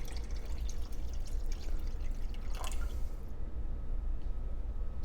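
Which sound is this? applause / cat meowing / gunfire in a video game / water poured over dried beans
water poured over dried beans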